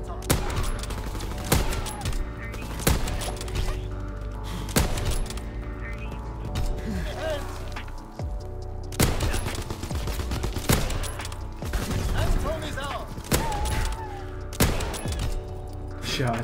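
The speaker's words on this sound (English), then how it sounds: "Shots right there, oh my god." Rapid gunfire rattles through a Call of Duty sniping match, with repeated sharp shots and bursts over steady game noise and some talking.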